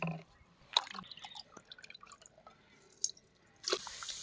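Scattered wet drips and small splashes of water as goat tripe is washed in clean water, close and intermittent, with a louder splash near the end.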